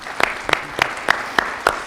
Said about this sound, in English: Give those students a round of applause, would you?